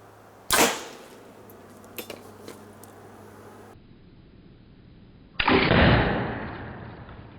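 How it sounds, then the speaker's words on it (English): A carbon arrow is fired into a hot water heater, giving a sharp loud impact crack followed by a couple of fainter knocks, quiet, then a second harsh burst that hisses and decays. "This is Carbon Arrow versus hot water heater."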